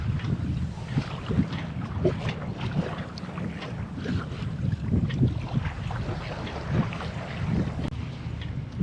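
A sailboat moves through waves at about 3.5 knots, and close wind buffeting mixes with the slosh and rush of water against the hull in an uneven, continuous churn.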